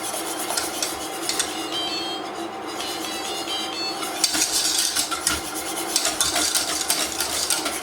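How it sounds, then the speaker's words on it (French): A spoon stirs lemon tart filling in a pan over medium heat, scraping steadily along the bottom and sides with continuous clinks and swishes, close and fairly loud, with no talking. "à feu moyen et je vais mélanger. Donc là, c'est important de bien mélanger tout le temps."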